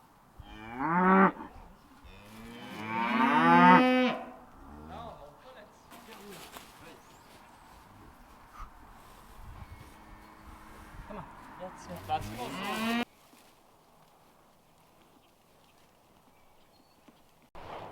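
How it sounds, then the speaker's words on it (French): Cattle on a farm, cows and a calf being brought in, moo loudly twice early on, followed by quieter shuffling and hoof sounds, with a person talking over part of it. "Donc on va rentrer les dernières vaches"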